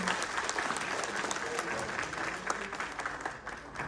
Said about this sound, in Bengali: আমরা বাবা মারা সবাই সবার বাচ্চাদের জন্য জোরে করতালি দিতে চাই।